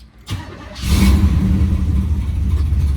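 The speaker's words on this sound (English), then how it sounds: "The car does start right now, but it hesitates to keep idle." A Chevrolet Camaro with a failing transmission cranks briefly and then catches, settling into a loud, rough idle that rumbles close by and wavers unsteadily, as though struggling to stay running.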